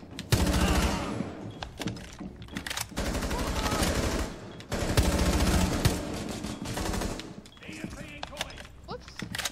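Ela's shotgun in Rainbow Six Siege, with several long dense bursts of rapid, loud gunfire separated by short pauses, and players talking throughout.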